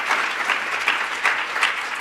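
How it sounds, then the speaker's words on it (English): Steady applause from an audience for a panel discussion, a moderately loud round of clapping with slight swells, heard without talk throughout. "Can we give this panel just another round of applause before we get started?"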